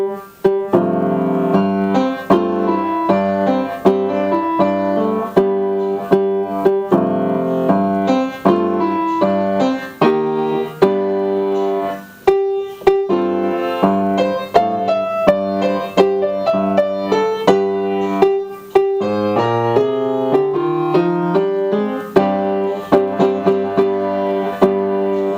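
Slow piano rendition of a film theme, with steady melody notes over sustained chords played deliberately across the whole stretch, close and clear with no talking.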